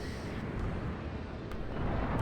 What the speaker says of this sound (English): Let's try and see where their shots are landing in the middle of my army here.